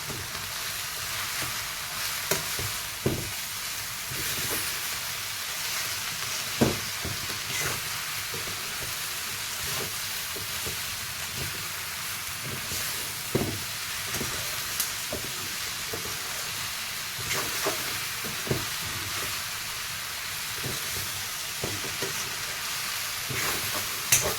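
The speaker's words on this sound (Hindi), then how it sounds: "आपको साग को अच्छी तरह से चलाना है नीचे से भी कि वो जले ना" Red spinach saag with salt and spices sizzles softly in a pan while being stirred, a low steady frying hiss broken by occasional scraping clacks of the spoon against the pan, with no talking.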